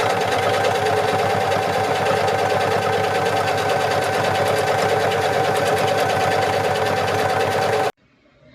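A sewing machine stitches a zipper wallet, running as a steady, rapid whir close by for about eight seconds before it stops abruptly. Faint background music plays throughout.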